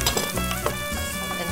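Food sautés in a hot pan in a kitchen, a steady close sizzle and crackle with a few stirring clinks, no voices.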